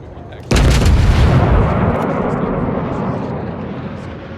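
A battleship in a naval video game lets off a broadside: one sudden heavy boom of gunfire that rolls out into a long, fading rumble, loud and close.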